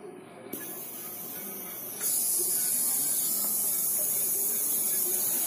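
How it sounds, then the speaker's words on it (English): Air hissing steadily out of a VULCAN regulator as it is released with a 24mm socket, a close, continuous broadband hiss that jumps louder after about two seconds and holds steady to the end. "First, we need the 24mm socket to release the air."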